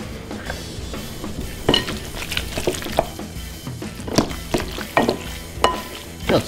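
A spoon works mayo and sour cream through a thick spinach artichoke cheese dip in a bowl, making soft squelching, sticky stirs and occasional clinks against the side, close and fairly steady without talking.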